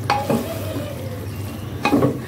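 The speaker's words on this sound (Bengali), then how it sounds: "একসাথে দিয়ে সুন্দর করে একটু কষিয়ে নিব।" Small pieces of beef and chana dal are stirred and fried together in a pan, with a soft sizzle under two sharp scraping stirs near the start and end.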